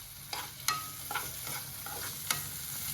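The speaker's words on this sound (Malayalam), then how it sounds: "ചിക്കൻ ചേർത്ത് കൊടുക്കണം. ഇതൊന്ന് വേവിച്ചെടുക്കാം." Chicken pieces frying in a pan as a spoon stirs them, a steady sizzle with several scraping clacks of the utensil against the pan, close up with no talking.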